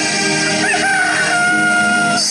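A rooster crows loudly and close by in one long, drawn-out call that rises and then holds steady, with no talking over it.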